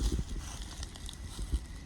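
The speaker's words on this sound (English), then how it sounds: "My horse." A horse close by in a garden gives a few soft hoof thuds and clip-clop steps, mixed with low rustling and faint background noise.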